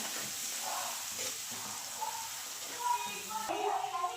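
A pan of tempering sizzles softly and steadily as it is sautéed, with light stirring scrapes and a brief louder crackle near the end.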